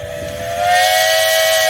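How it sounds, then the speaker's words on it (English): A loud, sustained steam tractor whistle blows a steady high tone over hissing steam, swelling slightly partway through, at a steam tractor parade. "How about a whistle there?"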